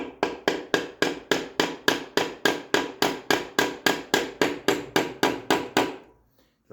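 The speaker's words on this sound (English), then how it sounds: "now I have to tap it in and put the shaft in it" Steady hammer taps drive a shaft into a Triumph TR6 gearbox during a rebuild, roughly twenty sharp, evenly spaced metallic knocks in quick succession that stop near the end.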